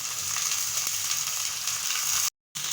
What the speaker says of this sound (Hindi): अदरक लहसुन का पेस्ट डालने के बाद हमने इसको थोड़ी देर भून लेना है अच्छे से